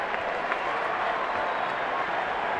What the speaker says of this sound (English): This crowd's been into it since batting practice.